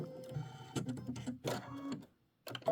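A sewing machine stitching quilt blocks runs in quick rhythmic mechanical bursts, close but faint, broken by a brief pause before it starts again.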